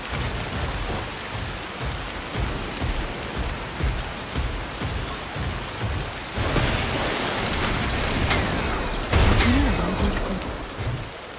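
Steady heavy rain falls in the video game SYNDUALITY Echo of Ada, with rumbling thunder swelling in about two-thirds through and a sharper crack near the end, with no talk.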